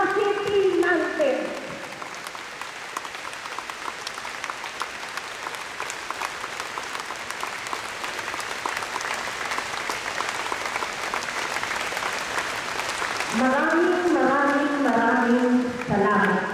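Long, sustained applause from a large crowd at a burial tribute for Governor Raffy P. Nantes in the Quezon Convention Center, steady and dense, with voices briefly at the start and end.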